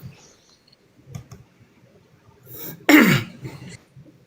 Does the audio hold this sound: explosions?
no